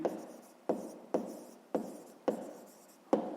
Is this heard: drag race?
no